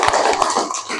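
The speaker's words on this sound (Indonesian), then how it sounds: "sekarang kita tepuk tangan dulu" A class of students claps hands together in a classroom lesson, a short burst of close, dense clapping lasting about a second.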